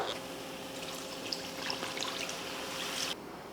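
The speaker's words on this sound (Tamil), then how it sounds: "அந்த மாதிரி டைமில் இப்போ தண்ணி சேர்த்துடலாம்" Water poured into frying masala in a pan, a steady trickling, sizzling pour that runs for about three seconds and then stops abruptly, close and fairly soft.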